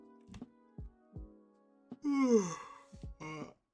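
A single drawn-out yawn with a rising, then falling voiced moan lands near the middle, after a few soft clicks and taps, close and fairly quiet, with no talking.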